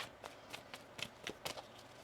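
A deck of tarot cards is shuffled, a quiet run of soft riffling flicks and taps arriving in quick uneven bursts, faint and close with no talking.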